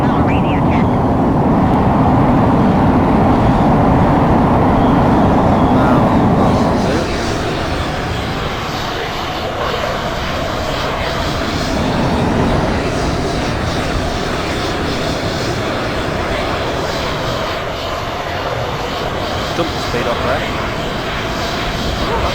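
Eurofighter Typhoon jet engine on afterburner climbing in Microsoft Flight Simulator 2020, a loud steady roar that shifts to a thinner, whining drone partway through, with someone talking over it.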